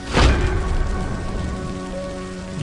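Sudden rain and a storm sweep over a meat market in a Bangla cartoon, a steady, dense hiss of pouring rain that swells loudly at the start and keeps drumming without pause.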